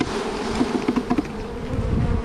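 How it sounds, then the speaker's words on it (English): A dense swarm of honeybees buzzes loudly and close as it is shaken off a hive frame during an inspection, giving a constant droning hum with slight swells. "shake the bees down."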